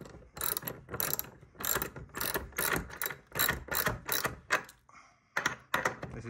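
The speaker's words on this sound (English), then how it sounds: "as you can probably hear the wood clamping together nice and tight, and that bolt is tightening right in." Ratcheting bolt tightening as timber rafters are drawn and clamped together against an RSJ steel beam, a loud close series of rapid clicking bursts in a steady rhythm with brief pauses.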